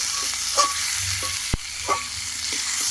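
Fried vegetables with a turmeric, green chili, ginger and cumin paste being stirred in a pan: a soft continuous sizzle broken by a few spatula scrapes and one sharp knock, with no voices.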